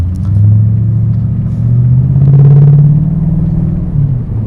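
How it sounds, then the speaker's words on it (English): A BMW 840i V8, an E31 with AC Schnitzer parts, rumbles steadily at a deep, near idle-to-light-throttle level, swelling slightly midway, with no talk. "give it a little rumble of the V8"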